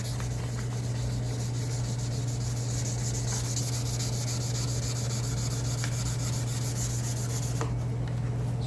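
A car headlight assembly is wet-sanded by hand with 800 grit sandpaper, making a steady, close, continuous rubbing rasp that runs without a break under a low constant hum, with no talking.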